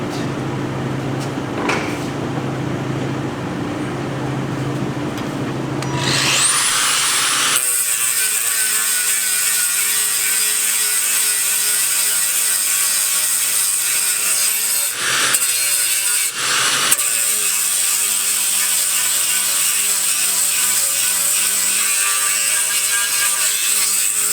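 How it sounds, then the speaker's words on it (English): Grinder cutting into a Club Car aluminum frame: after a quieter lead-in, a loud high-pitched whine starts and holds steady, with brief drops as the disc lifts off the metal. "So let me get the grinder and we'll grind some of that."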